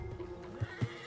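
A horse in the video game Red Dead Redemption 2 gives a short, close whinny, followed by a couple of soft hoof thuds.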